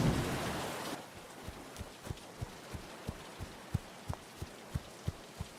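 Rainy-season rain gives a loud, dense hiss for about a second, then fades to a faint patter under a steady series of soft, regular thuds.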